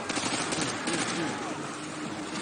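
Automatic gunfire crackles through a Call of Duty: Modern Warfare 2 match, a continuous dense volley at steady loudness with a player's voice talking over it.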